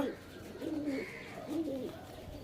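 A male pigeon in a loft gives two soft, rolling coos in quick succession, faint and close against a quiet background.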